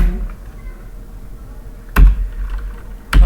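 Keys tapped on a computer keyboard while typing a slide in PowerPoint, two short bursts of clicks at about two and three seconds against a quiet room hum.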